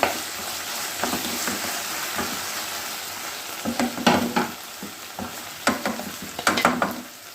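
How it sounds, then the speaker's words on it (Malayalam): Okra with turmeric frying in a pan, a steady sizzle broken by several sharp scrapes and clacks of stirring, louder and busier toward the end, with no talking. "ഇത് നന്നായിട്ടൊന്ന് മിക്സ് ചെയ്തെടുക്കാം കേട്ടോ. നല്ലപോലെ ഒന്ന് ഫ്രൈ ആയി വന്നിട്ട്"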